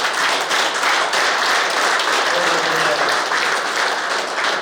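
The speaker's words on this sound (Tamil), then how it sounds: "அவருக்கு நம்முடைய அனைவரும் ஒரு தடவை நீங்கள் எல்லாம் கைதட்டுங்க." An audience at a kabaddi umpire clinic in Erode applauds, dense continuous clapping throughout with voices underneath.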